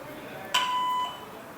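A voicemail answering machine gives a single short electronic beep, a clean sustained tone lasting about half a second that cuts off sharply against quiet background hiss.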